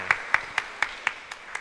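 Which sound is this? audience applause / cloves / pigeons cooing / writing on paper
audience applause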